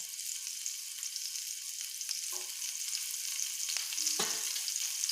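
Cut capsicum pieces dropped into hot oil on a griddle, giving a steady, moderately quiet sizzle throughout, with a few faint clinks and knocks near the end and no talking.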